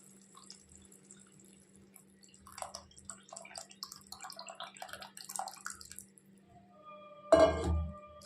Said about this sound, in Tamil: நான் புளி கரைச்சி வச்சுருக்கேன், அதை சேர்த்துக்கலாம்.